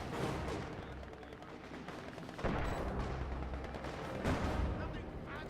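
Gunfire and artillery in the World War II strategy game Company of Heroes 2, rapid shots and sharp impacts rattling at moderate distance, with a couple of heavier thuds amid a busy battle bed.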